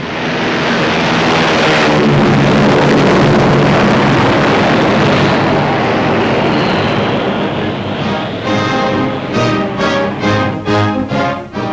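Wartime military aircraft roar loudly down the runway on takeoff, a sustained broad engine drone that swells and then thins into pulsing propeller throb toward the end.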